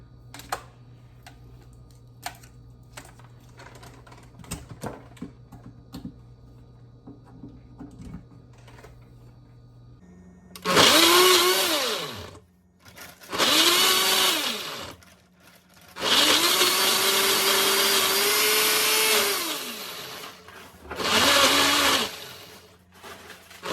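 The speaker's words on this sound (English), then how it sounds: "Like with a blender like this, you might have to stop it, shake it" A countertop blender purées frozen fruit for a vegan smoothie in a home kitchen. It roars loudly in four separate bursts of several seconds each, with quiet pauses between them, after a stretch of faint kitchen ticks and clatter.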